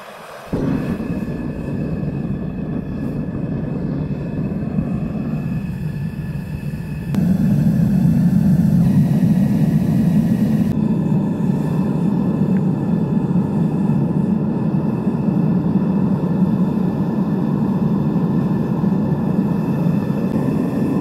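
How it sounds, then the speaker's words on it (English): A fuel-fired backyard furnace roars steadily while heating a crucible of aluminum pull tabs for melting into ingots. The deep, constant rumble continues alone and grows noticeably louder partway through. "it's time to go outside and load the crucible into the furnace and start melting down these aluminum pull tabs"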